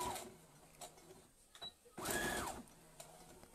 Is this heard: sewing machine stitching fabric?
yes